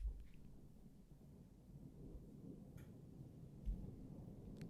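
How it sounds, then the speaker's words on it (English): Distant thunder during a storm, a very faint low rolling rumble that swells at the start and again near the end, with no talk over it. "Got some thunder back."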